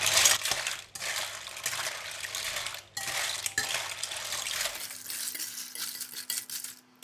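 Clam shells clatter and rattle continuously against a metal wok as they are stirred with salt, sugar, fish sauce and oyster sauce for Thai-style basil clams, loud and close before settling into a softer sizzle.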